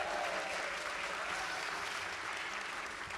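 Steady applause from an audience gathered for a live storytelling night celebrating a local news outlet's first anniversary, a dense, even wash of many hands clapping for about three seconds with no talk over it.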